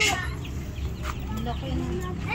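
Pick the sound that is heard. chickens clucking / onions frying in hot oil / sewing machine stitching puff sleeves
chickens clucking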